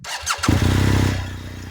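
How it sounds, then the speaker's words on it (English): A BMW boxer twin motorcycle engine cranks briefly, then catches and settles into a loud, steady, throbbing idle close by. "This is what that boxer engine sounds like."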